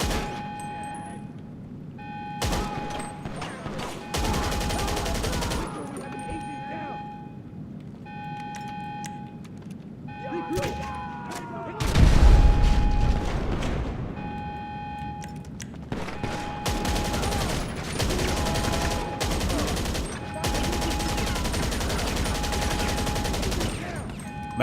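Automatic weapon fire empties a full magazine in GTA 5 Online, a loud sustained burst of rapid shots over game beeps and background music, with a voice talking before and after.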